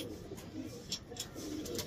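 Pet pigeons cooing in a loft, soft low repeated coos with a few brief higher chirps over steady background noise.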